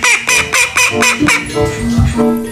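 A toy duck gives loud, close, honking squeaks: a fast run of five or six sharp honks, then a longer drawn-out honk and a few fainter ones trailing off.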